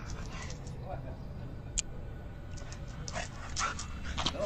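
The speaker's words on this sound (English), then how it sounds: "Felix's beloved pet dog Shiloh frolicking in the backyard" A pet dog playing in a backyard pants softly, with occasional faint whimpers and yips over a low outdoor background, close but quiet.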